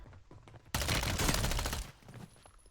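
Automatic Striker 9 SMG fire in the battle-royale video game Warzone: a loud, dense burst of rapid shots lasting about a second, with quieter game noise before and after.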